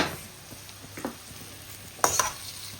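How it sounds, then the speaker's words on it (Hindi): Mashed boiled potatoes stirred into frying masala in a pan for mirchi pakora filling, a steady low sizzle with a few soft spoon scrapes and one louder clatter near the end, no talking. "2 मिनट मैं इसका चम्मच हिलाऊंगी, 2 मिनट इसको पकने दूंगी"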